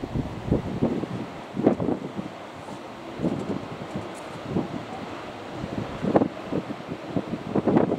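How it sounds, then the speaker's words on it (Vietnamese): Strong wind buffets the microphone at a seaside boatyard where a fishing boat waits to be hauled onto a slipway, a continuous rushing roar with recurring louder gusts throughout. "Trời gió quá, có lẽ bay flycam không nổi quá."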